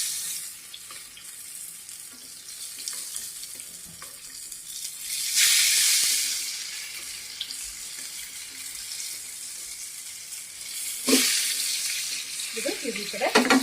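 Fish frying on a tawa in coastal style, a continuous sizzle that swells loudly twice as pieces are moved or turned, with faint kitchen clatter toward the end.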